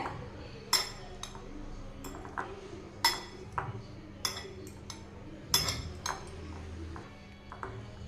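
Metal spoon clinking against a bowl while peanut salad ingredients are mixed, with sharp intermittent taps at an uneven rhythm over a soft low rumble, close and fairly quiet.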